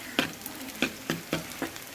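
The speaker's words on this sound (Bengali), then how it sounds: "এখন সিম ভর্তার জন্য শুকনো মরিচ ভাজবো তিনটা শুকনো মরিচ আগে ভেজে নিব" Three dried red chilies fry in a pan with a soft continuous sizzle, punctuated by about five evenly spaced sharp scraping clacks as they are stirred.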